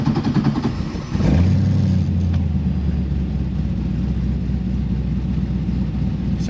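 A fuel-injected 1963 Corvette split-window resto mod starts up: a brief crank, then the engine catches with a loud surge and settles into a steady, deep idle rumble, close by.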